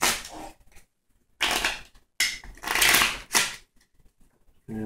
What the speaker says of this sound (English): as always, we give the deck a shuffle.